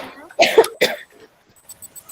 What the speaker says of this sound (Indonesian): Kadang Bu lagi batuk-batuk mulu.